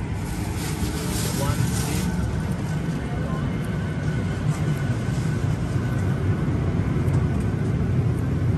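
Qantas Boeing 737-800 taxiing to its domestic parking stand, heard from inside the cabin as a steady, loud engine drone and rumble that continues throughout, with people talking over it.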